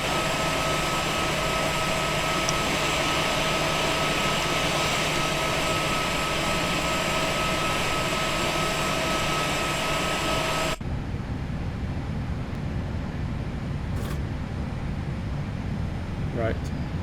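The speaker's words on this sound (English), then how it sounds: "Flap open, we can start up the APU." An APU starting up on an easyJet Airbus A320 in the Prepar3D v5.4 flight simulator, parked at the gate with brake fans on: a steady, loud turbine whine and roar with tonal hum that shifts abruptly partway through, then continues at a lower level.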